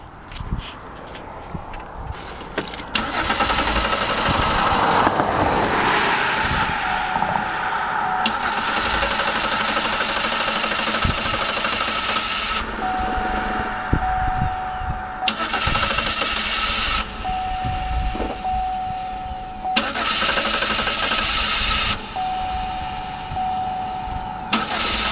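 Car engine running on a homemade gasoline vaporizer cranks, then starts and settles into a steady idle with surging revs, fairly near, with a whining tone and occasional clicks and footsteps.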